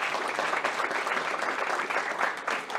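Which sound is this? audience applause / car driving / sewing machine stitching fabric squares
audience applause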